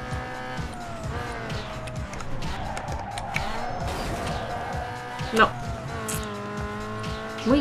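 Cars race in Need for Speed Underground 2, with engines whining and shifting in pitch, tires squealing and a sharp impact partway through, while someone talks over the game sounds.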